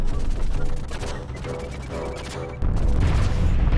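Rapid bursts of retro-style gunfire during a boss fight in the Owlboy video game, with loud repeated shots that continue throughout and swell near the end.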